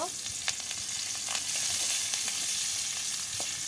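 Chopped onion and green chili hit hot oil in a pan after fish has been fried, sizzling steadily with faint stirring scrapes throughout.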